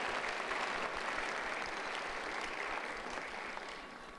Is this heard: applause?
yes